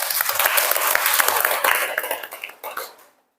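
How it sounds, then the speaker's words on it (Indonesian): A classroom of students at a vocational high school gives a burst of applause, many hands clapping close together. The clapping holds for a couple of seconds, then thins out and stops. "Tepuk tangan dulu."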